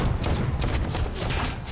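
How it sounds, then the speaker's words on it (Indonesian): Rapid bursts of film gunfire crackle continuously, loud and dense, like a sustained shootout. "Mozak pun murka dan langsung menembaki Riva dengan membabi buta."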